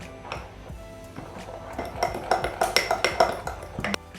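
A spoon clinks rhythmically against a bowl while homemade scouring cream is stirred from white or green clay and liquid black soap, with quick regular metallic taps growing louder, close by.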